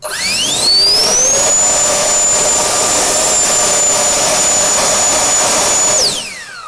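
A cheap Chinese electric turbo blower runs at its third speed, a loud steady whine that rises in pitch as it spins up, holds a constant high tone for several seconds, then drops away as it winds down.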